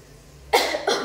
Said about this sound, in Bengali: সর্দিটা একটু কমেছে বাট কাশিটা হচ্ছে